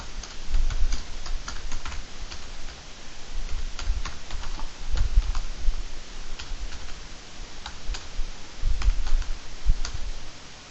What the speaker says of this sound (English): Let us type.